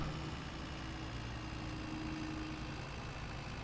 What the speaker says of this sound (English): Really liking this tractor.